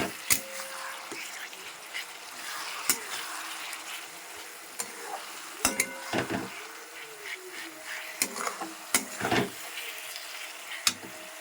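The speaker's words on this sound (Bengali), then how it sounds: "এরপর আদা রসুনটাকে একটু ভালো করে কষিয়ে নেব" Ginger garlic paste being sautéed in a pan, a moderate sizzle broken by frequent sharp clinks and scrapes of a spatula against the metal, close up with no talk.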